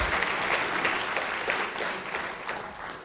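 Audience clapping at a Toorcon 2007 security conference talk, a steady run of many hands clapping at moderate volume with no speech over it.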